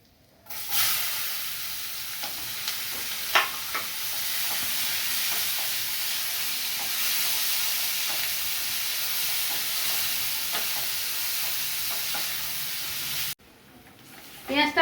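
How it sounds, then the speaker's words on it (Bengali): Onions fry in hot oil left over from frying tilapia fish, a steady, loud sizzling hiss lasting over ten seconds with a few faint stirring clicks, then cutting off abruptly. "এই তেলের মধ্যে আমি পেঁয়াজ দিয়ে দেবো।"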